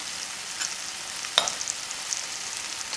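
Chole masala with red chili powder being stirred in a pan, a soft steady sizzle with a few light scraping clicks of the spoon, close and without talk.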